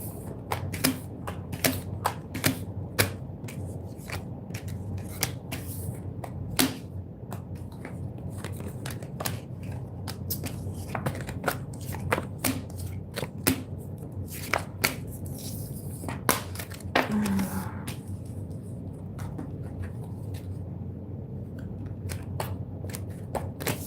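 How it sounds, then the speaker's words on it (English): Tarot cards being shuffled by hand, a long run of crisp riffling snaps and taps with close, repeated bursts and brief pauses, quiet and near with no voices. "just give this a quick shuffle."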